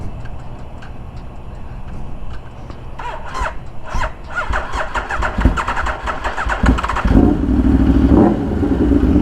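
An Aprilia motorcycle engine cranks in repeated bursts without catching, loud and close outdoors, with crows cawing in the background and no voices.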